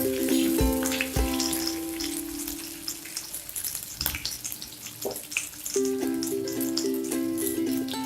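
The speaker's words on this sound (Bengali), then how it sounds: "এবার আমি কেটে রাখা পেঁয়াজগুলো তেলের মধ্যে ছেড়ে দিলাম। পেঁয়াজগুলোকে আমি হালকা আঁচে কিছুক্ষণ ভাজবো।" Onions sizzle and crackle in hot oil over low heat, a constant frying hiss with a few clinks and background music tones layered over it.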